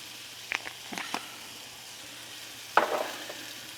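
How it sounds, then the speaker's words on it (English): A burger patty sizzling in a hot pan, a soft steady hiss with a few sharp pops and crackles breaking through. "Okay, now it's starting to sizzle."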